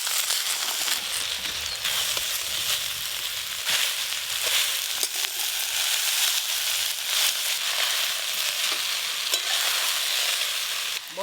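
Chopped kalmi greens frying with potato and eggplant in hot oil, giving a dense, continuous sizzle with crackling and occasional stirring scrapes throughout, close and steady with no talking.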